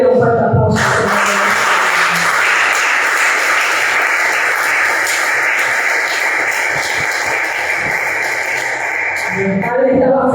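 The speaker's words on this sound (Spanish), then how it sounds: "Denle un fuerte aplauso." Sustained applause from a church congregation at a sermon on the prodigal son, a dense, steady roar of many hands filling the room from start to finish, with faint voices underneath.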